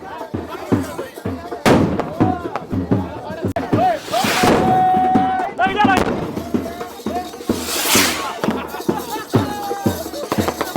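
Firecrackers bang sharply in rapid bursts at a village wedding celebration in Pakistan, loud crackling pops and fizzing blasts close by, with people talking and shouting in between.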